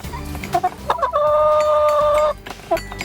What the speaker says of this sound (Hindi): बारी बारी से ये मुर्गे जाइलोफोन पर चोंच आजमा रहे हैं।